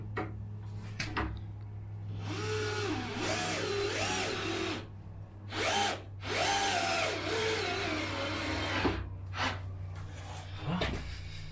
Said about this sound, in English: I'm just gonna drill a very small hole